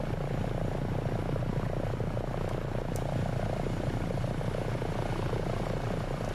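HH-65A Dolphin (AS365N2 Dauphin) helicopter in Microsoft Flight Simulator 2024, a steady, loud turbine and rotor drone that holds constant throughout with no voices.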